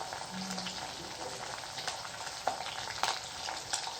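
Soaked vegetable pieces fry in hot oil for a Marathi vegetable dish, giving a steady, dense sizzle with a few sharper crackles and pops throughout, fairly close and with no talking.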